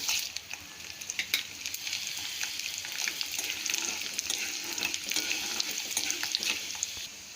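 Lentils and dry red chillies fry in a pan with a steady, close hiss and crackle, broken by scattered sharp spits and stirring scrapes across the whole stretch, with no voices.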